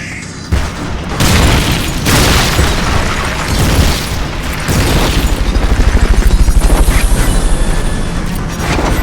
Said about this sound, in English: Main cannon ready to fire!